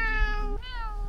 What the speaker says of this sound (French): Il est bien fin, ce chat-là, je le veux.